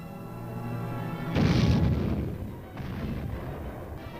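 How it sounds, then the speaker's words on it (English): A recoilless rifle fires during early Taiwanese army training exercises: one loud, broad boom lands about a third of the way in, over a steady low rumble of field noise, then the blast rolls off into lingering, reverberant echo. "This group is setting up a recoilless rifle."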